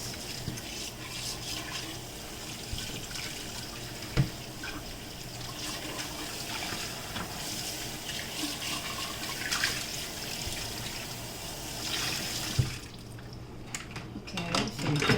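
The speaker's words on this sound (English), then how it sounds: "So we wash it out" A jug is rinsed out under a running kitchen tap, with a steady broadband stream of water and occasional light knocks of the jug, heard close with a voice talking over parts of it.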